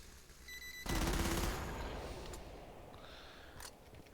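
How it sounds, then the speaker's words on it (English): A medic gun in Killing Floor shoots at a pipe bomb and sets off a sudden loud burst of rapid gunfire. It dies away into a rumbling tail, with a faint click at the end. "once your pipe bomb's about to activate, you just shoot your medic gun at it,"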